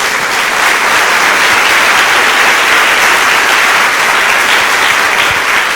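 A church congregation clapping together in steady, dense applause that fills the whole stretch at a loud, even level, with no voices on top.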